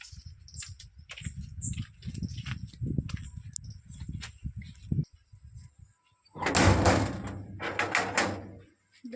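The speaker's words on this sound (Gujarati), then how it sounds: "હું પણ હવે દરવાજો બંધ કરી લઉં" A door being shut at a village home: soft shuffling and light knocks, then a loud rattling scrape lasting about two seconds as the door slides closed, close by.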